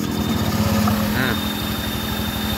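A Honda Vario 125 scooter engine runs with the CVT block removed, a steady idling drone with a brief high squeal rising near the middle, loud and close with no talk.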